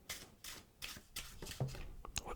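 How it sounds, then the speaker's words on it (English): An overhand shuffle of a deck of playing cards makes a close, crisp series of rhythmic papery swishes and slaps, about six strokes in quick succession, recorded intimately for ASMR. "let's do an overhand shuffle."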